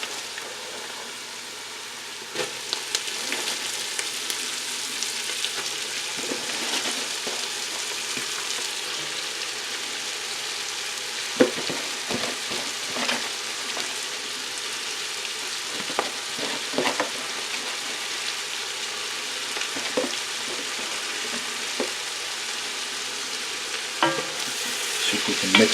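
Cabbage and egg noodles for haluska fry in a pan, sizzling steadily at close range while a utensil scrapes and stirs in irregular bursts, with no voices throughout.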